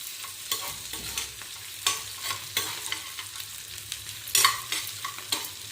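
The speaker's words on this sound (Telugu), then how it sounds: "ఉల్లిపాయలు నెమ్మదిగా వేగుతున్నాయి, మెల్లగా బ్రౌన్ కలర్లోకి వస్తున్నాయి." Onions fry slowly in a pan with a steady soft sizzle, while a utensil scrapes and stirs in irregular strokes close by and no one speaks.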